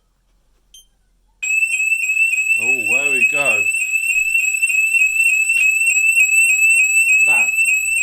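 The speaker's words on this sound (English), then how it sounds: "I'm dreading what this alarm's going to be like. It's going to come straight from the base station as well." A SimpliSafe home security alarm blares from its base station, a loud, steady, piercing pulsed electronic tone that starts abruptly and holds, with someone speaking briefly over it.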